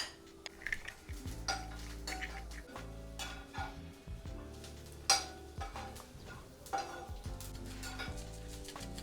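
Butter goes into a hot pan with a soft sizzle while a utensil scrapes and clinks against the metal in steady, repeated stirring strokes, close and fairly quiet.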